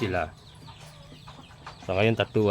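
Roosters in a coop giving short throaty clucks in two brief bursts, near and moderately loud, with a quiet gap between them.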